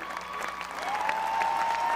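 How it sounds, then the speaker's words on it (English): An audience applauds dance award winners at the Heiva i Tahiti festival podium evening, with clapping that builds over two seconds alongside a sustained tone from the stage sound system. "On les applaudit."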